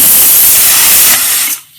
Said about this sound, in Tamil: நல்லா ஆவி வந்தோடனே நான் விசில் வைக்க போகிறேன்.